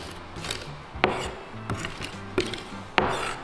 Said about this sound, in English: So we'll just chop the garlic up really fine.